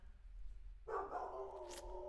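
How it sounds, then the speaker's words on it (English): A dog barks once or twice in a home during a live acoustic music chat, a brief, moderately close bark breaking through faint background hum, with no talk over it. "There goes our dog."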